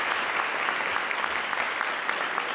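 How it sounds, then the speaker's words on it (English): Audience applause at a school district State of the District event, steady even clapping from a large crowd heard at a moderate distance, continuous throughout with no voices over it. "give a round of applause for that"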